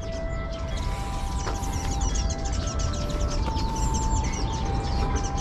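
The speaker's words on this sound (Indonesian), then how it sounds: "Burung pelatuk juga masih banyak." Woodpeckers and other birds call in a large, quiet park in winter, with repeated short chirps and whistled notes scattered over a low outdoor rumble at moderate distance.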